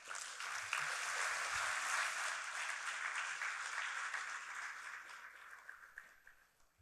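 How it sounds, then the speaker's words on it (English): Broad, sustained audience applause in a large hall at an academic ceremony following an oration, steady and dense for several seconds before tapering off at the end. "let's give a sounding round of applause one more time to Professor Chamila Methananda"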